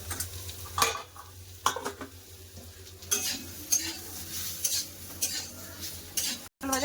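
Spiny gourd fries in a pan with chili powder while a spatula scrapes and stirs in repeated sharp strokes over a continuous sizzle, with a few clinks of metal on the pan.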